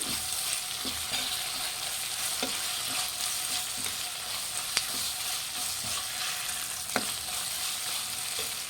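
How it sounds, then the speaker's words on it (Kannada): Ginger garlic paste fries in hot oil for hotel-style Guntur chicken, a constant close sizzle with occasional clicks and scrapes of a spoon stirring through the pan. "ಇದು ಹಸಿ ವಾಸನೆ ಹೋಗೋವರೆಗೂ ಚೆನ್ನಾಗಿ ಫ್ರೈ ಮಾಡಿ."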